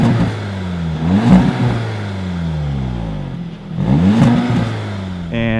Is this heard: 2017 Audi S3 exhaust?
yes